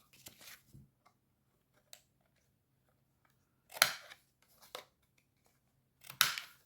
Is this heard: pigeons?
no